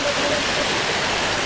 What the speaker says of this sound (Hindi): छोटा सा वाटरफॉल दिख रहा है मुझे